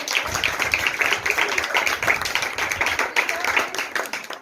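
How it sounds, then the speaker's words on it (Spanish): A class applauds students after a forum exercise, brisk, dense clapping from a group in a room, steady and fairly loud for a few seconds with possible voices mixed in. "vamos a darle un aplauso a los muchachos"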